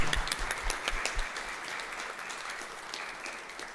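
An audience at a lecture claps in applause, a close burst of dense clapping that fades over a few seconds.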